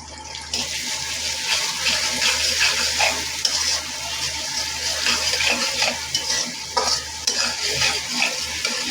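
Onions and garlic fry in a pan for a spicy fish-head pulao, a loud, continuous sizzle with frequent scraping from steady stirring; no voices.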